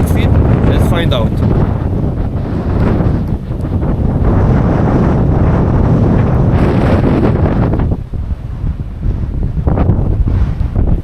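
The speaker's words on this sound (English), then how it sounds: "However, it's quite windy as well." Strong wind buffets the microphone on a winter mountain ascent near Mulhacen, a loud, constant roaring rush with gusty swells throughout, and a voice speaks beneath it.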